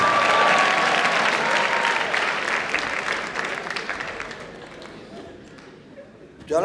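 Stand-up comedy audience in San Juan, Puerto Rico applauding a comic, loud dense clapping with crowd noise that gradually thins and fades before a brief burst at the end.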